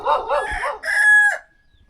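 Rooster crowing once at close range, a loud stretched call that trails off into silence, with a few clucking notes just before it.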